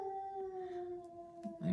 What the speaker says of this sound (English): gave in to his instincts to want to howl.